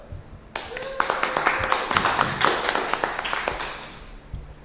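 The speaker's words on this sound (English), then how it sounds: "So you give me a round of applause in welcoming Michelle" A small audience claps to welcome a guest named Michelle at a community gathering, the applause starting abruptly and continuing as a moderate, fairly close patter of hands with a few louder individual claps.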